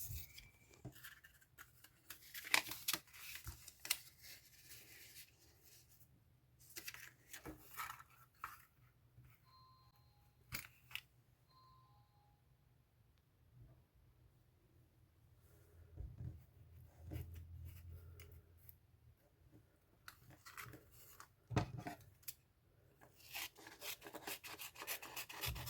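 Cyanotype paper is cut to size for a picture frame, giving faint, scattered snips and soft rubbing scrapes with long quiet gaps between them.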